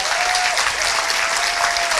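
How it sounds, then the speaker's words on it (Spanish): Applause from a church congregation during a Spanish-language service fills the whole stretch: a steady, dense wash of many hands clapping together, loud and close, with no gaps. "Pues un aplauso que sea para Jesús siempre."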